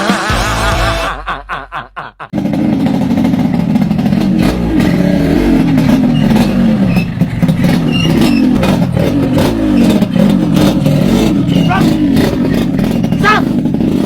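A motorcycle engine is revved hard again and again, its roar nearly continuous and loud, with people talking and chuckling over it.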